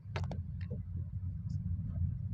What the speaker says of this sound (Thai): ขับแบบสบายๆนะ Honda Jazz นะปี04 IDSI นะครับ